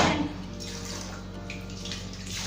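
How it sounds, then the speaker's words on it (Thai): Dishes washed under running water at home, a soft, steady flow with light splashing at moderate distance and no voices. "ก็ล้างถ้วยไปเลยสิคะ"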